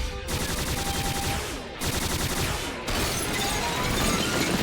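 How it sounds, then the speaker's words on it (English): Rapid gunfire from a shootout in an animated Robotech episode, sustained dense bursts with brief gaps, loud and continuous over a busy soundtrack, no talking. "They're still shooting at us."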